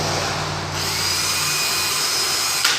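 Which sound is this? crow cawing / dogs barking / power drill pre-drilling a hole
power drill pre-drilling a hole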